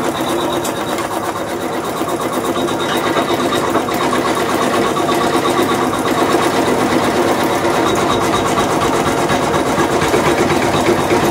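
Embroidery sewing machine (model 450e) stitching a built-in design, a steady loud whirring hum with fast needle chatter continuing unbroken throughout, no talking.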